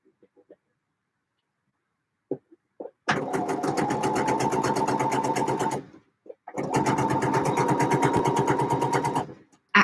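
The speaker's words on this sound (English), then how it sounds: "Actual sewing during a live hangout" A sewing machine stitches in two sustained runs of a few seconds each, with a rapid even needle chatter and a short pause between them. A few faint bumps come before the first run.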